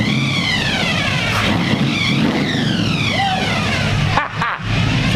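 A supercharged NASCAR race car engine idles at about 900 rpm, loud and close, with a continuous whining, shifting whistle riding over the steady engine drone.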